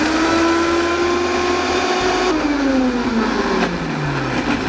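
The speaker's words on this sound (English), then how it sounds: "So we're going to start by blending these three ingredients to a smooth paste" A blender whirs loudly and steadily as it purees chili peppers into a paste, its motor pitch dropping partway through as the load shifts, close up with no talk.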